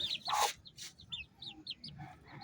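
Native chickens in a cage cluck softly in short, scattered calls close by, with a couple of louder bursts of scratchy noise early on.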